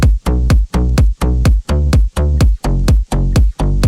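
The instrumental drop of a song pulses in loud, evenly spaced bass-heavy stabs with short gaps between them, a steady rhythmic pattern with no vocals.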